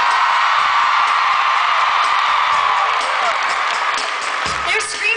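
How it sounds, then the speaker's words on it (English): A concert crowd screams and cheers loudly and continuously, a dense high-pitched roar of many voices filling the whole stretch with scattered whoops. "They're screaming for you."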